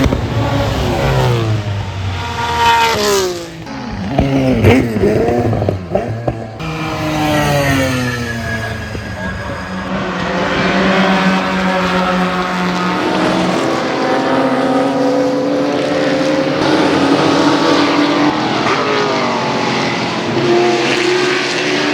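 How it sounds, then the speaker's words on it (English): Race car engines at Road America during an SCCA National Championship race, echoing off the surrounding forest as a sustained roar with rising and falling revs and overlapping passes, loud and continuous throughout with no voices. "the sounds from these cars reverberate off the trees, creating an atmospheric symphony of engine noise"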